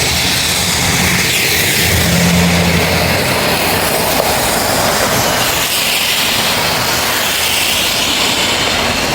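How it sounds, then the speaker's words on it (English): Cars pass loudly and close, a continuous heavy roar of engines and tires that rises and falls as vehicles go by, with a brief low hum partway through. "We waited because they're kind of loud right now."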